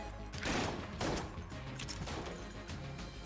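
Rapid bursts of gunfire from the video game Enter the Gungeon, two loud volleys followed by steadier continuous shooting with game effects, no talking.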